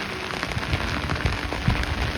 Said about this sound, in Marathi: पाऊस तर साऱ्या सकाळ धरून बी चालू झालाय, तो बी काय उघडा नाही.